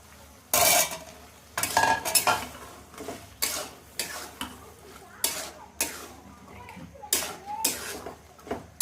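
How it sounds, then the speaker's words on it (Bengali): Chickpeas fry in a pan with spices, dried and green chillies and tomato, loud scraping stirs at irregular intervals, a low sizzle running underneath between the strokes. "ছোলা ভাজা হচ্ছে"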